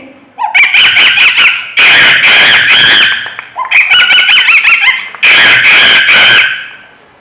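A mimicry performer at the Kerala State School Arts Festival imitates a monkey's cry: shrill, squealing bursts in several loud chattering bouts separated by short pauses.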